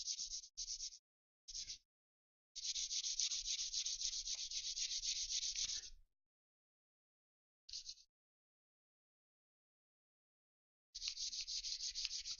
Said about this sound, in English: Just wanting to catch the sandpaper. Not fun. Again, sanding with the grain.